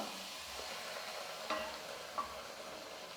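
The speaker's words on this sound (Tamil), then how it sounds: "இப்போ இந்த முட்டையை நம்ம ஊற்றிக்கலாம்." Egg poured into onions frying in a pan gives a soft, steady sizzle, faint and close, with a couple of small clicks along the way.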